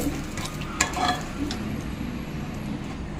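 Cashews and curry leaves sizzle in hot oil for a tempering, a close, steady frying hiss with a few spoon clinks and stirring scrapes over it.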